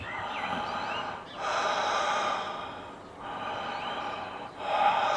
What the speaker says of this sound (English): So you lie down and breathe like this.